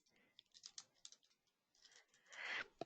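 Soft, irregular keyboard typing in short bursts, fairly quiet, with a brief louder rustle near the end.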